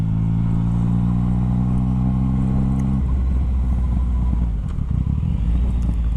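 A 2016 Yamaha FZ-09/MT-09 motorcycle engine, close and loud, holds a steady deep idle, then breaks into a quick burst of throttle revving with rough, throaty rises and dips, with no talking.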